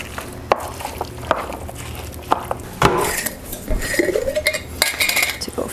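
A spoon clanks and scrapes against a metal pot while garlic powder, oregano, parsley and basil are stirred into shepherd's pie filling, with sharp, irregular clinks and a few heavier knocks, close and clear with no talking.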